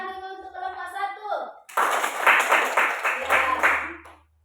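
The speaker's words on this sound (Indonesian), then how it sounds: "Tepuk tangan dulu untuk kelompok 1" Schoolchildren in a classroom break into quick clapping for a group of classmates, a brisk burst of many small hands lasting a few seconds after a voice is heard speaking.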